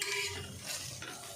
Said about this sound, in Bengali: ঠিক এইভাবে প্রতিটা পরোটাই আমি ভেজে নেব।